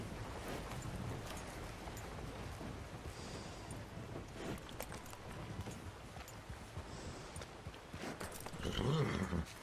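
Horse hooves clop at a steady walking pace in Red Dead Redemption 2, a Western video game, heard faintly against a soft background wash that swells near the end.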